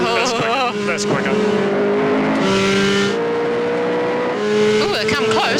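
A Vauxhall Chevette rally car drives past loudly, its engine whining and rising through the revs with sharp gear changes, while an excited commentator talks over it.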